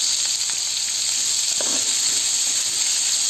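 Garlic cloves and chopped onions frying in a hot pan give off a loud, steady hiss of sizzle, with a brief stirring scrape midway and no talking.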